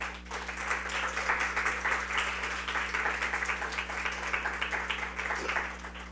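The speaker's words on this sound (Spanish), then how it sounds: "Le puede dar un fuerte aplauso al Señor." A church congregation gives a sustained round of applause, steady dense clapping from a crowd filling the room for several seconds with a low hum beneath and no speech.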